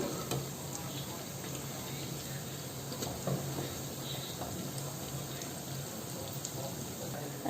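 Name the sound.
onion fritters (piyaju) frying in hot oil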